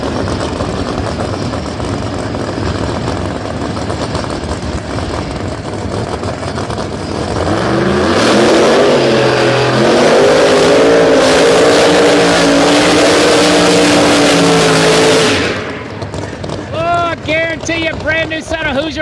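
Drag car doing a burnout on a brand-new set of Hoosier racing slicks at Rockingham Dragway, a loud sustained engine roar with tire scream building midway and holding for several seconds before cutting off, wind noise and background chatter around it.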